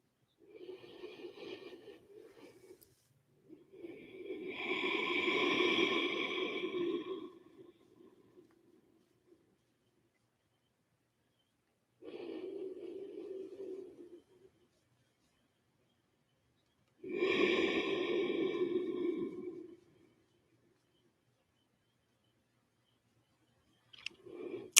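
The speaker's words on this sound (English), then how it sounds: "take 2 more really big, deep inhales and exhales here" Slow, deep breaths during a restorative yoga session: two long inhale and exhale cycles, each a soft, breathy whoosh lasting several seconds, close to the microphone, separated by quiet pauses.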